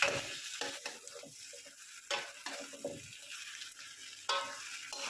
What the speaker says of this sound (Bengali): তো এখন আমি মাশরুমটা ঢেলে আমি ভালো করে মিক্স করে নাড়িয়ে নেব।